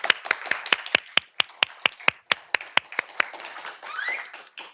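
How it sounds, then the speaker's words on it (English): A meeting audience at a student association national assembly in Skövde breaks into applause, a run of sharp, fairly even claps building into a fuller, more scattered round near the end, with no talking over it. "A round of applause"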